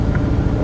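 A one-of-a-kind Canadian gullwing car engine runs with a steady, close, loud low rumble throughout, with no voices.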